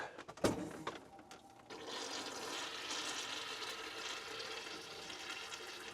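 RV toilet flushing antifreeze out with water; a sharp clunk opens it, then a steady, moderately faint rushing of water runs without a break to the end.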